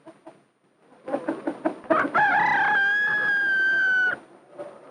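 Chickens on a small farm, with a few short clucks leading into a loud, drawn-out rooster crow and a soft cluck after it, heard close by.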